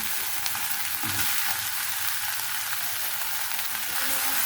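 Cauliflower and other vegetables frying in a pan: a close, dense sizzling hiss that holds steady throughout.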